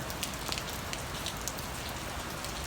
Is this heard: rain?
yes